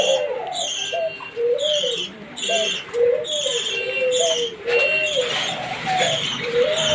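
Doves kept for sale coo repeatedly nearby, a rhythmic series of low calls with chirps from other birds mixed in and faint background noise.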